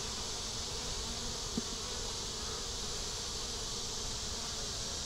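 A dense, constant hum of bees buzzing around an open beehive in hot weather, steady and close, with one faint tap partway through and no voices.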